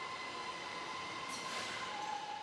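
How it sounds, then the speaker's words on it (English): A company shuttle train on Huawei's Shenzhen campus rumbles along with a steady rolling roar and a faint sustained wheel squeal, moderately distant and even, with a slight swell midway. "They have their own train."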